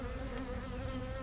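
Honey bees buzz around an opened hive during a super-adding inspection, a close, continuous droning hum of many wings with no break and no voices.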